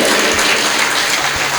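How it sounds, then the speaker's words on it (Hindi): Audience applauding for themselves at a spiritual discourse, a dense, steady wash of clapping that stays loud and even throughout, with no talk over it. "अपने लिए ताली बजाओ"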